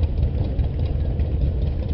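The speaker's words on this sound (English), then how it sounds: "A 1928 John Deere D, owned by the Weiss family from Brookville," A 1928 John Deere D tractor in a steam threshers' parade holds a steady, close, low rumbling engine note with a slightly uneven throb throughout.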